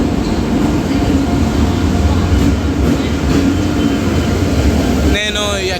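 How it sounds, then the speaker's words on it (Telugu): Rajdhani Express train pulling into an Indian railway station, a steady loud rumble of rolling wheels and rail noise throughout, with a brief squeal near the end. "నేను ఎక్కబోయే రాజధాని ఎక్స్ప్రెస్ ట్రైన్ అయితే వచ్చేసింది."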